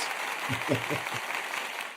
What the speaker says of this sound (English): let's pull up the applause